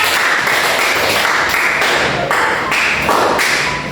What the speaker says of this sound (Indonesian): Beri aplaus dulu untuk kelompok 2 ya